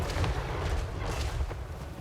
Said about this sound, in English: And the cannons keep bringing down the single entities.